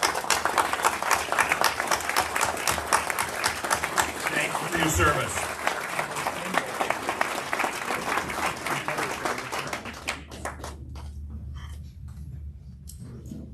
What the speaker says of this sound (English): Could we get them to stand so we give them a round of applause?